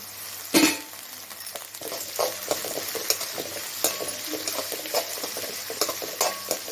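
Onions sizzle as they sauté in a pan for a masala mini idli dish. A steady frying crackle runs underneath, with repeated scrapes and clinks of a spoon stirring against the pan.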